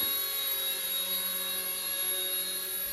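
An RC ERA C184 MD 500 model helicopter lifts off and hovers with a steady, high-pitched electric motor whine and rotor hum, constant in level with no talk.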